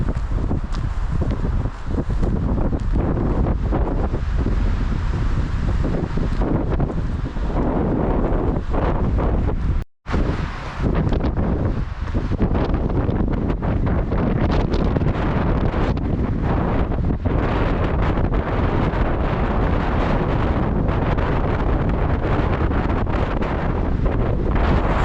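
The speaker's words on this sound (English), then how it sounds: "Bet you can hear the wind." Strong wind buffets the microphone continuously in Bryce Canyon National Park, a loud roaring rumble with gusting surges and one brief dropout partway through, no voices.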